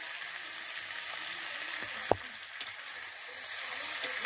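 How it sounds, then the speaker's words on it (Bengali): Chicken pieces and fried onions sizzle in a modest amount of oil for a homestyle desi chicken curry, a steady close hiss with a few sharp clinks of utensil on the pan. "পেঁয়াজটা ভাজা হয়ে গেছে, এবারে আমি মাংসটা দিয়ে দেবো।"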